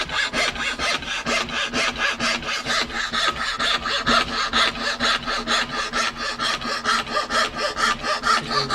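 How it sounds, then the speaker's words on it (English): A hand saw cuts wood in a cabinetmaking workshop, close and steady, with about thirty even rasping push-pull strokes at a brisk, regular rhythm and no talk. "How's the sawing going?"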